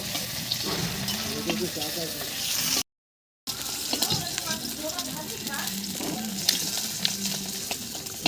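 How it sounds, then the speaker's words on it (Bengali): Fish frying in hot oil for a pumpkin and fish dish, a steady close sizzle with crackling bursts throughout, cut by a brief gap of silence before resuming just as loud. "মাছ ভাজা হয়ে গেছে।"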